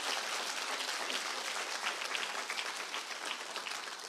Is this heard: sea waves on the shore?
no